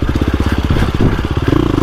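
A KTM 350XCF four-stroke dirt bike engine glugging close up, a loud, rapid throbbing pulse with uneven lumpy beats that quicken slightly near the end.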